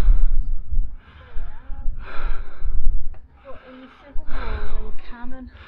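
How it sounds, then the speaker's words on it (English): A person breathes heavily and gasps after climbing to the top of Restormel Castle in Cornwall, with audible snorts and breaths mixed among talking close to the microphone. "Oh, I'm trying to get my breathing back."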